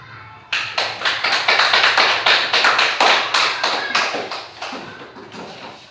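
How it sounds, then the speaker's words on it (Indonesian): A group of schoolchildren at a church gathering claps rhythmically in sharp, evenly spaced strokes, loud and close, continuing for several seconds before tapering off. "tepuk tangan."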